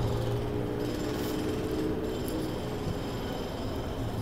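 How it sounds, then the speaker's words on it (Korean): Jackhammer-like construction noise from building work nearby, a steady dense rattling hammering that runs without pause as a continuous loud background wash, with no talking over it. "뭐 여기저기서 막 공사를 합니다."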